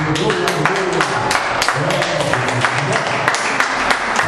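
A church congregation claps together, with sharp hand claps landing in a fairly steady rhythm, close and loud, while voices carry on underneath.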